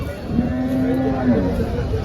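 A cow moos once in a long, low drawn-out call, fairly close, over steady background noise at a cattle market in Chalisgaon.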